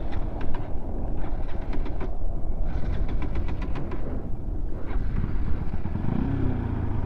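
A motorcycle with a misbehaving starter is started on a road toward Chilapathar. The engine cranks and churns in loud, repeated bursts over a steady rumble.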